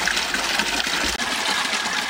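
Water pumped through a homemade sieve pre-pump filter, a continuous close gushing and trickling flow with one brief dip, no talk.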